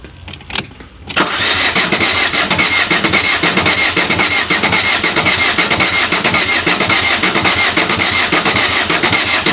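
Engine on a test stand with a weakening battery cranks steadily without catching, a loud, continuous whirring starter drone after a brief clatter at the start.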